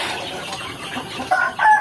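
Village chickens on a farm mixing traditional and intensive modern rearing cluck loudly nearby in short bursts, with a sharper call rising near the end.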